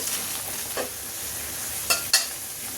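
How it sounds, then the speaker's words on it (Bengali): Soft boneless fish frying in a pan, a steady sizzle with a few brief stirring or flipping scrapes near the end, close and moderately quiet, with no voices. "এভাবে আমি মাছগুলিকে একটু ভেজে নিই"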